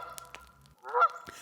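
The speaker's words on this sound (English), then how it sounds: "Is that a goose?" A goose lets out a single short honk near the end of a quiet moment, preceded by a few faint clicks and knocks.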